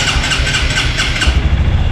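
A 2025 Honda CRF 150L motorcycle engine running just after starting, a steady low mechanical rumble up close with an uneven, slightly loping pulse, and no talking.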